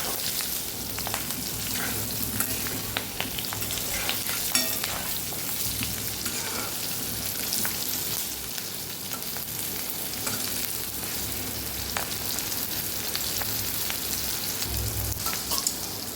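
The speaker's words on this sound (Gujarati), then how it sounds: "થોડા આપણે ફ્રાય થઈ જવા દેવાના છે." Stuffed green chillies sizzle in a pan of hot oil, a continuous close crackling fry with intermittent spatula stirring and no voices.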